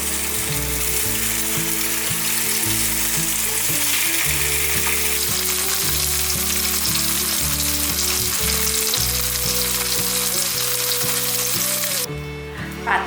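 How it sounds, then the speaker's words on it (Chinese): Four sheets of fresh tofu skin pan-fry in a little oil, giving a loud, steady sizzle that fills the whole stretch and cuts off sharply near the end. "准备4片的新鲜豆包，现在放下锅内。"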